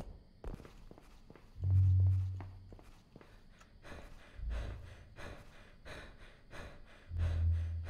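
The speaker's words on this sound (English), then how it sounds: "Why is this man breathing so hard?" Heavy, laboured breathing of a man in the horror video game Krampus is Home, with loud low breaths repeating every couple of seconds over soft footsteps, no talking.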